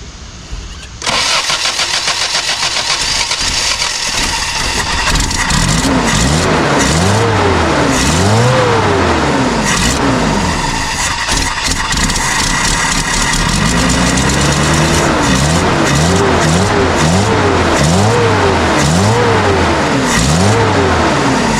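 Toyota 20R engine fitted with a 22R carburetor cranks briefly, catches and starts, then revs up and down repeatedly, loud and close, settling between several rising and falling revs.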